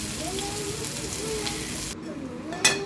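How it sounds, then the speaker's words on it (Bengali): Sesame fritters frying in oil, a steady close sizzle with gentle bubbling and a brief sharp clatter near the end, with a faint tonal whine from the surroundings underneath. "একদিকটা ভাজা হয়ে গেছে, আমি ফের উল্টে দিয়েছি। এদিকটা ভাজা হচ্ছে"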